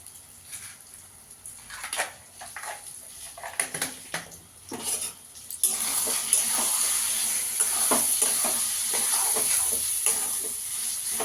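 A keema mixture seasoned with black pepper and fennel is stirred in a pan, with scrapes and clinks of a spoon at first, then a steady sizzle from about halfway through.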